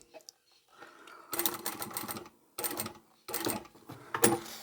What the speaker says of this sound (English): and then we can sew back and forward along here